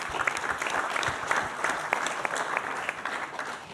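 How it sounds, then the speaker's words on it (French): Audience at a prostate cancer information evening applauds steadily, a dense patter of many hands at moderate distance with no voices over it. "vous pouvez les applaudir"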